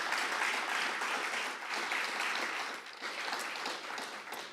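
A crowd at a Veterans Day ceremony applauds a retired U.S. Air Force major general, a steady, dense wash of clapping that holds at an even level for several seconds and then eases slightly.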